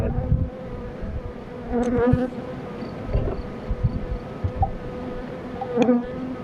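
Honeybees buzz around apiary hives being readied for the linden honey flow, a close droning hum with individual bees passing near the ear, steady and moderately loud, with scattered handling knocks and no talking.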